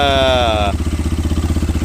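A CFMOTO Papio XO-1 motorcycle engine idles with a steady, loud, pulsing thump close by, while a rising whine fades out in the first part.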